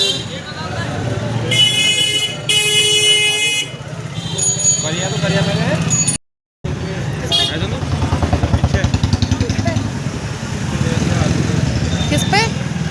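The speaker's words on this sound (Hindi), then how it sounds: "बाइक से ही हम लोग जा रहे हैं।" A motorcycle rides through busy market traffic, its engine running steadily up close under the rider's talk, while car and motorcycle horns toot repeatedly around it and other vehicles rumble by.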